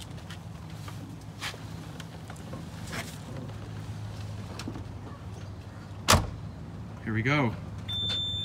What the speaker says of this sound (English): Okay, let's hear this car start.